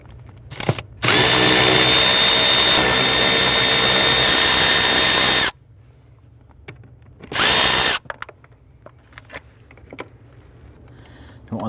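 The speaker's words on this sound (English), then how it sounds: "We have 3 T30 Torx bit screws. Let's go ahead and loosen and remove those." Power drill backing out T30 Torx screws on a 1999-2004 Jeep Grand Cherokee during hood latch release cable replacement: one long loud whirring burst of about four seconds, then a shorter burst, with light clinks and handling noises between.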